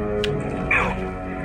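A dog in the World War I video game Valiant Hearts: The Great War gives a brief bark, which rises out of a steady bed of game music and ambience.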